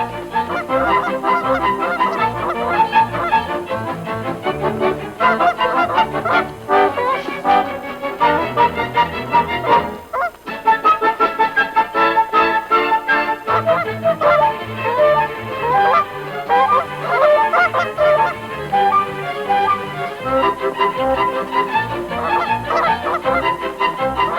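Arctic tundra geese honk loudly and repeatedly in a dense overlapping chorus, the calls continuing almost without pause apart from one short break.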